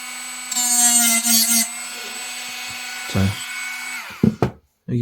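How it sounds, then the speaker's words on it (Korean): A small power grinder whines in short bursts on the nickel-plated copper plates of a Milwaukee 12Ah battery pack, shaping solder points, with brief knocks and handling noise between passes. "각 포인트에 이제 좀 그라인딩을 해서 먼저 이제 납땜 포인트를 만들어 줄게요"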